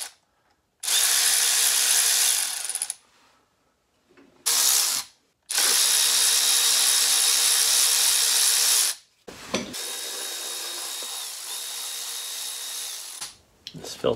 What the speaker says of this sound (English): So we loosen those bolts.